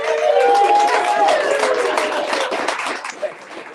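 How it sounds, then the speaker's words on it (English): Live studio audience applause at the close of a talk show episode, a dense wash of clapping that starts loud and tapers off over a few seconds, with some crowd noise mixed in. "I actually kind of like having the applause"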